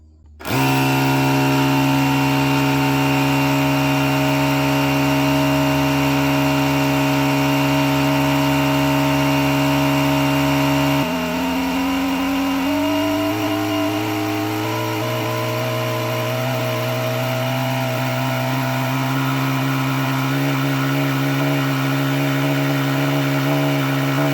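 A Milwaukee or ETENWOLF cordless tire inflator runs steadily and loudly, a droning motor and pump hum. Partway through, the pitch drops and wavers before it settles into a lower, steady whine. No one talks over it.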